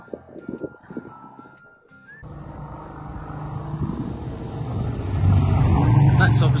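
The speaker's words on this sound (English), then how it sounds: "It's obviously a motorbike going past" Motor vehicle, most likely a motorbike, approaching and passing close by outdoors beside a house under construction, its engine rising from quiet to a loud, steady rumble after a couple of seconds of background sounds.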